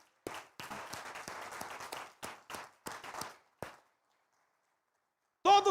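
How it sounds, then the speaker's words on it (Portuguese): Church congregation clapping in bursts of applause during a Portuguese-language worship service, several short rounds separated by brief pauses, then silence and a short loud burst near the end. "Aplauda o Senhor Jesus,"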